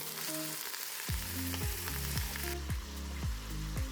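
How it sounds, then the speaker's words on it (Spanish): Chicken browning in a pot, with a steady close sizzle of frying and regular scrapes and knocks as it is stirred, and no talking. "Dejaremos dorar durante unos 6 u 8 minutos, removiendo de vez en cuando para evitar que se pegue en el fondo"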